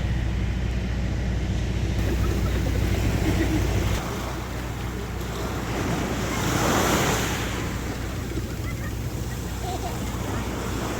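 Ocean surf washes steadily on the beach at Liwliwa, Zambales, Philippines, with a swell rising midway, mixed with heavy wind buffeting the microphone; no clear voices stand out.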